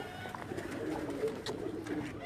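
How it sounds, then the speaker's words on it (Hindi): Soft coos of a crested pigeon murmur low and close, with faint rustling and distant background noise. "उस्ताद मलक अज़हर साहब ऑफ रावलपिंडी, उनके घर की टोपी वाली जो ब्रीड का कबूतर है आबद भाई आपको दिखा रहे हैं।"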